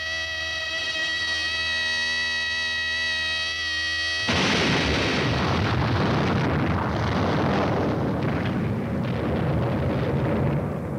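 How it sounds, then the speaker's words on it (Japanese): A massive quarry blast of 160 tons of explosives goes off at a rockfill dam construction site in 1958 Japan. A steady tone breaks into a deep, rumbling roar that lingers as a long, loud, distant-sounding wash of noise. "一度に160トンの火薬を爆破させる日本最大の大発破が"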